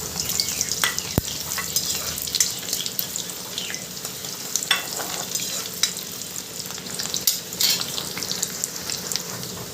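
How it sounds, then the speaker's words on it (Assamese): Whole cumin seeds and chopped onion fry in hot oil, making a continuous close sizzle with scattered crackles and the clatter of stirring. "এতিয়া মোৰ তেলখিনি গৰম হৈছে, তাত কেইটামান গোটা জিৰা দি দিছোঁ। তাৰপিছতে কাটি থোৱা পিঁয়াজ"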